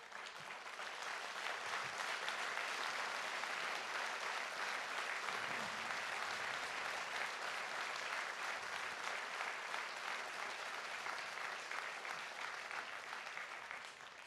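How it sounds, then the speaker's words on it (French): Sustained crowd applause for mayoral candidate Jean-André Miniconi at a campaign list presentation for Aiacciu Pà Tutti, a dense, steady clapping that holds evenly for the full length and fades slightly at the end. "Cet homme, c'est Jean-André Miniconi, auquel je vous demande de ne pas ménager vos applaudissements."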